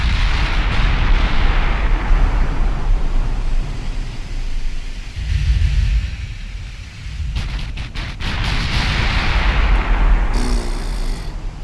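Heavy naval gun turrets firing in the warship battle game Ultimate Admiral Dreadnoughts, a continuous roar of deep booming salvos that surges, dips briefly around the middle, then swells again, with no talking.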